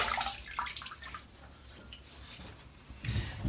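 A bathroom sink faucet runs cold water into the basin, a steady splashing wash with a few drips, fairly quiet and without talk.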